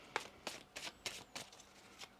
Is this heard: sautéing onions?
no